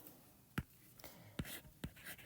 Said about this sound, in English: And let me write that down here.